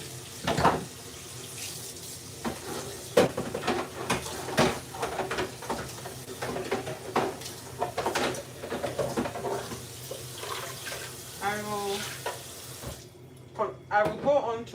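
Kitchen tap running into a sink while bowls are washed up during cooking, a steady close flow of water with clinks and splashes, a brief voice near the end, and the water cutting off before the finish.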